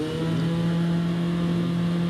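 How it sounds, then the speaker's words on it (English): Race car engine at a hill climb start, held at high revs in a steady, loud, close buzzing drone with a strong constant pitch, no voices. "Building up the revs."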